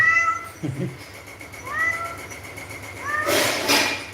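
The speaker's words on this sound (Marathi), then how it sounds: "आम्ही मांजराचं पिल्लू पाळलं होतं" A kitten meows close by: several thin, rising-and-falling cries spread across a few seconds, with brief rustling and a burst of hiss-like noise near the end.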